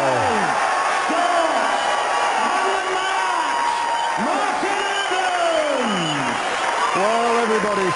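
A large crowd applauds, cheers and whoops after a first-round match at the 2005 Darts World Championship. The noise is loud and steady throughout, with a voice talking over it.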